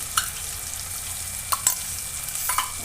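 Tomato masala for mutton rassa frying in oil, a soft continuous sizzle with a few sharp ladle taps and clicks spaced through the clip.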